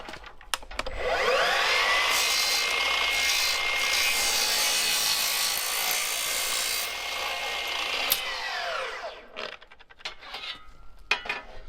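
A power saw slices through a Barrette deck railing piece, trimming it to length in one sustained whining cut that starts and stops abruptly, close and loud, followed by faint handling clatter.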